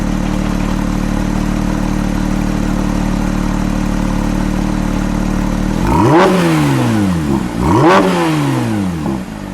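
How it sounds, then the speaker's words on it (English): 2022 Porsche 911 992 GT3 Touring engine idling with a steady loud drone, then two sharp revs that climb and fall back, close and forceful. "Hey, give me a rev and track."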